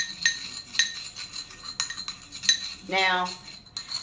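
Metal spoon clinking and scraping against a bowl while stirring a homemade cleaning mixture for beauty blenders and makeup brushes, a run of sharp close taps followed by a quick swirling scrape, with a brief spoken word.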